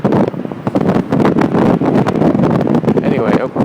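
Heavy wind in Hiroshima, Japan buffets the microphone in loud, gusty rumbles, with a person talking underneath the blustery noise.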